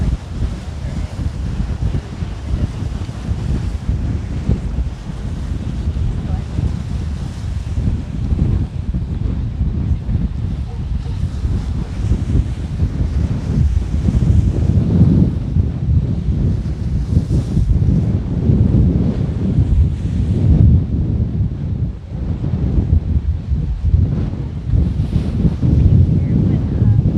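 Strong wind buffets the microphone at a seaside jetty in Venice, Florida, a constant low roar with gusty surges, with faint surf and a voice talking intermittently underneath.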